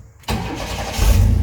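A Chevy G10 van with a custom exhaust cranks briefly and fires up, settling into a loud, deep, rumbling idle close by.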